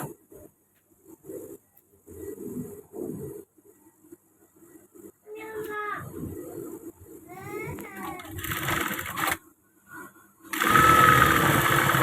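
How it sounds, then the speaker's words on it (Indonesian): Sewing machine stitching the back darts of a women's service uniform, running in short bursts between pauses, with someone talking at times and louder machine runs near the end. "Ini kita jahit bagian kopnatnya ya, kopnat belakang."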